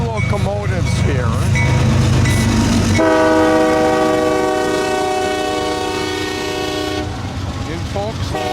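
Five CSX railway locomotives rumble past in Folkston, Georgia, with a long, loud train horn blast sounding for about four seconds in the middle, over steady engine noise and wheel clatter; people talk briefly before and after the horn.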